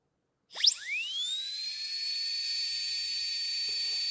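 A high-speed carving tool for piercing, used at a woodturning lathe, spins up with a rising whine and settles into a steady, piercing high-pitched hiss that continues close and loud throughout.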